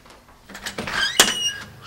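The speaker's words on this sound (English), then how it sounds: "Let me get the door." A house door is opened, giving a short creaking squeak and a sharp latch clack heard close, with a few soft knocks and shuffles around it and no voices.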